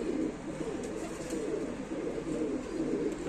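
A Rampuri pigeon, eight to nine years old, cooing softly in low, rolling repeated phrases, close and quiet with no talk.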